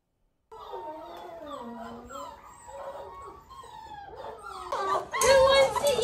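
Seven-week-old Aussiedoodle puppies whimper and howl in overlapping high cries, close and steady, swelling into a louder, busier chorus toward the end.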